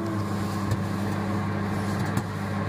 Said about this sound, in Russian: начинается вращаться вентилятор.